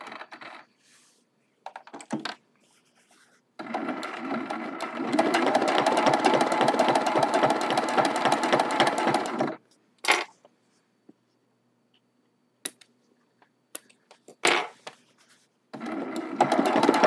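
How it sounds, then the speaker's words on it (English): A sewing machine stitches down a quilted fabric flower on a mug rug, one steady burst of fast stitching lasting about six seconds, with scattered clicks and short mechanical taps before and after in a quiet room. "Just like that, we stitched down the flower"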